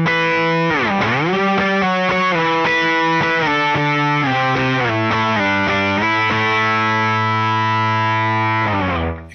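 Heavily distorted electric guitar playing a high fifth-interval technique, with effects and a thick harmonic layer, sustained notes that slide and shift pitch, loud and continuous before cutting off at the end.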